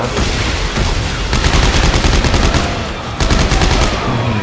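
Sustained bursts of automatic weapon fire aimed at a monster's legs in Dead Space 3, loud and close, a steady hammering stream broken by a brief pause before another burst.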